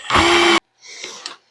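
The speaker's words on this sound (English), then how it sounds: "I have no doubt that this is going to hold just fine for putting these pocket screws in" Power drill driving a pocket screw into a cedar bench: a single loud half-second whir that stops abruptly, followed by faint rustling and handling noise.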